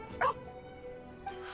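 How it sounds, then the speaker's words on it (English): A dog in the video game Genshin Impact gives a short yip-like bark that whimpers briefly, then a fainter second yelp follows over soft game background music. "Doggo!"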